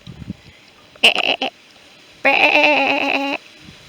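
A sheep in an orchard field bleating twice nearby, a short wavering call followed by a longer, louder one, against quiet outdoor background.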